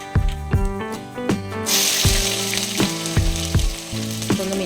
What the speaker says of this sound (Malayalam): ഇത് ഇഞ്ചി വെളുത്തുള്ളി ചതച്ചത് ഇട്ട് കൊടുക്കാം.